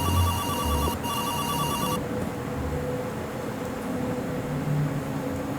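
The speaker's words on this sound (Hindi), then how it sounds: "ये फ़ोन किसका आ गया ये अब?" A phone ringtone rings loud and close as a repeating electronic tone for about two seconds, then cuts off and leaves steady low background noise.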